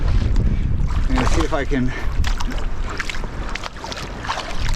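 Strong headwind gusting across a lake while canoeing among whitecaps, a loud, buffeting wind roar against the microphone, with someone talking briefly over it.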